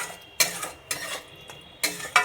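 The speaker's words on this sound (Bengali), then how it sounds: "সুন্দর করে লো ফ্লেমে এটা কষাতে হবে" Katla fish kalia masala being sautéed on a low flame, a series of four or five sharp scraping stirs against the pan separated by short quiet gaps, with faint sizzling between them.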